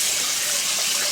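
Cold water runs steadily from a kitchen tap for soaking, a continuous close hiss and splash with no talk.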